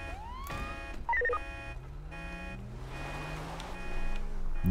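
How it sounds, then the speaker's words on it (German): A car alarm in GTA 5 wails steadily under a police siren that rises and falls, with both tones continuous and fairly loud across a dense street backdrop. "Oh, diese Alarmanlage. Kannst du die nicht ausstellen?"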